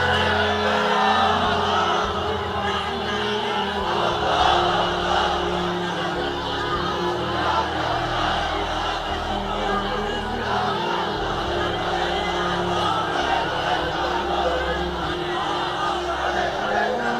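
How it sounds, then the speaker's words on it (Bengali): A large congregation at an Islamic sermon gathering shouts the takbir together, a dense roaring crowd chant that stays loud and continuous throughout, with voices blending into a massed swell. "তাকবীর দেন তো একজন আওয়াজ করে।"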